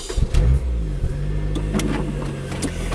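A Lotus Exige S sports car engine revs and pulls away on virgin snow, a close, steady mid-pitched drone with a brief louder surge at the start.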